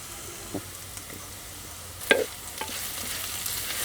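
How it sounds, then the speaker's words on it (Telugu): Ridge gourd peel frying in a pan with salt and turmeric makes a faint steady sizzle, with a couple of brief utensil taps and one sharper knock. "ఇలా బీరకాయ తొక్కు వేగుతుండగానే ఉప్పు పసుపు కూడా వేసుకుంటే బీరకాయ తొక్కు త్వరగా వేగుద్దండి"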